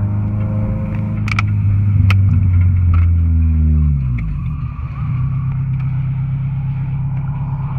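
A Porsche accelerating close by, a loud engine roar whose pitch falls as it passes, then a steady lower drone as it pulls away.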